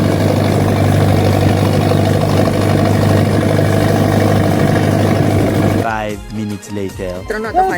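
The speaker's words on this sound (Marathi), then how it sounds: "स्वास्तिक दादाचीच होडी आहे ही" A boat engine idles with a loud, steady drone for several seconds near Underi Fort off Alibaug, then drops away as a voice begins speaking close by.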